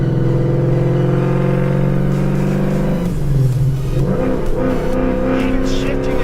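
A 550 hp Ford Mustang GT accelerates hard from inside the car, its engine note climbing steadily before dropping sharply at a gear shift and pulling again, loud and close with voices talking over it.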